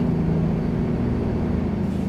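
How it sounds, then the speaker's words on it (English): Steady drone of a Peterbilt truck's engine and turbo in American Truck Simulator, hauling a combo car carrier, a constant low hum running unbroken and fairly loud with no talk. "I love the sound of the turbo in this thing too."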